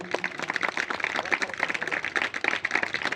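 A church congregation claps together at a Christian convention gathering, dense, steady applause with sharp overlapping hand claps filling the hall throughout.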